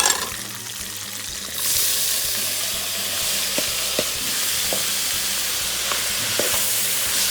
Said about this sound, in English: we're going to fry our onions, okay, in the mixture